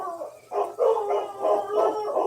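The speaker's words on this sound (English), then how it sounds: "Dogs." Several dogs bark and howl together in short, rising bursts, fairly close and loud, repeating in quick succession.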